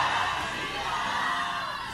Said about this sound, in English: Raise your voice and scream the blood of Jesus.